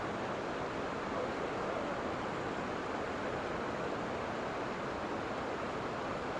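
A large waterfall in America pours with a constant, even rushing roar of water, steady and fairly distant, with no voices.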